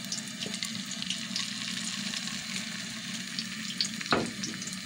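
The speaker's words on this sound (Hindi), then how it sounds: "इसको मैं फ्राई करके निकाल लूँगी।" Beaten egg frying in a pan for street-style burgers gives a constant close sizzle and crackle, with a brief louder stir or scrape near the end.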